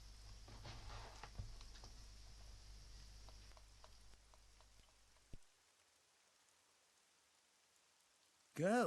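Rain in the video game Xenoblade Chronicles 2 makes a steady, soft hiss for about five seconds, then cuts to near silence before a short, loud tonal burst at the end.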